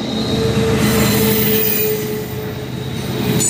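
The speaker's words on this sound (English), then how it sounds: "Double stack intermodal." A CSX double-stack intermodal freight train rolls past close by in a loud, continuous rumble of wheels on rail, with a thin metallic squeal riding over the steady roar.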